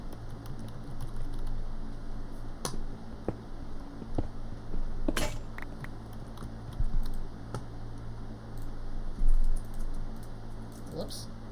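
Computer keyboard typing during a Minecraft livestream: scattered, uneven keystrokes and occasional louder key hits over a steady electrical hum, with a voice faintly in the background.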